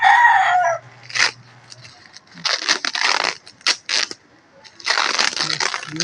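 Chickens cluck and a rooster crows nearby, among scattered bursts of scratchy rustling noise.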